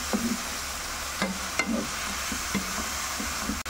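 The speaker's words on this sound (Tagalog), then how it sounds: "Igisa muna natin siya bago tayo mag-add ng water." Bean sprouts with soy sauce sauté in a pan, an even sizzle under a handful of scraping, tapping spatula strokes, close and fairly quiet, without speech.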